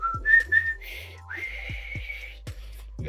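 A person whistles nearby, a few short rising notes and then a longer held tone, with soft knocks underneath.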